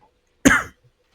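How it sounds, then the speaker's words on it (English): A single harsh cough bursts out nearby, loud and brief, from someone with a worsening cough while hosting a Dota 2 inhouse game stream, with quiet on either side. "my cough is getting worse"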